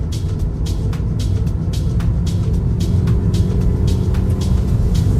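An old BMW, shifted down a gear in manual mode, pulls hard with a steady, loud engine drone from inside the cabin, a low rumble rising gradually as it accelerates.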